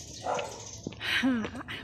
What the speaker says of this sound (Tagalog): Ang cute na aso